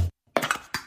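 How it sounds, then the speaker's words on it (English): Rogue nicotine pouch tin: a brief close knock, a pause, then two bright metallic clinks in quick succession, crisp and alone with no talk. "The sound of high-quality, great-tasting nicotine pouches."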